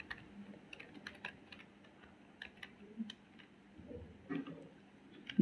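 Quick, light keystrokes on a computer keyboard as a terminal command is typed on an Ubuntu Linux system, soft irregular clicks in short bursts with a few louder taps, no talking.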